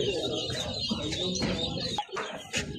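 Small ducklings chirp and peep repeatedly in a busy poultry market at Sabunçu, with people talking nearby and other fowl calling.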